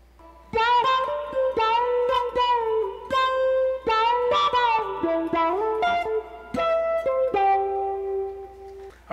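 Electric guitar plays a two-measure phrase from a song, single notes sliding and bending in a flowing melodic line, loud and close with no talking.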